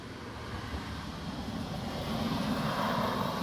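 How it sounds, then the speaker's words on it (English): A car approaches along a road and grows steadily louder, a rough broadband rushing rumble building toward the end as it nears. "Here comes a car."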